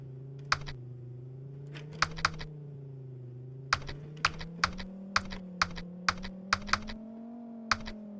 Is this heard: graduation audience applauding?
no